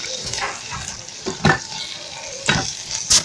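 Ground fresh peanuts fry in a pan while a utensil stirs them, a steady low sizzle broken by a few louder scraping strokes spaced about a second apart.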